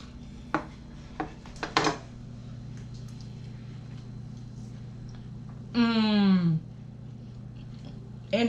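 A knife cuts through tender smoked meat on a board with a few soft, close taps early on, over a steady low hum, followed later by a brief rising whine.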